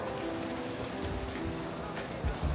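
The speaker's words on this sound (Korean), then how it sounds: "비가 너무 많이 와가지고" Heavy rain pours steadily in Taipei as a constant hiss close by, with a few soft patters and thumps mixed in.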